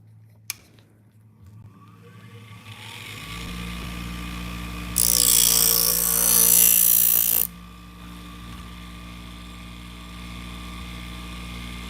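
Knife blade ground on a powered sharpener in a busy shop, with a rising motor hum and a loud, harsh grinding pass of a couple of seconds in the middle before it settles back to the hum.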